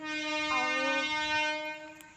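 A train horn sounds a single sustained blast of about two seconds, loud and fairly near, with a rich chord of tones, as a train reaches a station.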